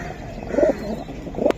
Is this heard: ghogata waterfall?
no